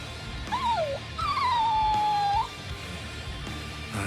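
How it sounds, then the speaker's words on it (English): A dog whimpers in the video game Bleach Rebirth of Souls, giving two high, wavering whines, a short one and then a longer drawn-out one, over a low background hum. "We thought it was just a stray dog."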